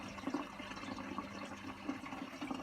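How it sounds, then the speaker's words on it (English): Miele W864 washing machine taking in cold water during a cold-only fill: a quiet, steady hiss and gurgle of inflowing water, with small splashes and trickles, heard alone at low volume. "Water's coming in. Cold only fill."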